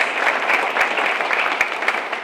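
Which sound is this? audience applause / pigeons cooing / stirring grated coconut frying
audience applause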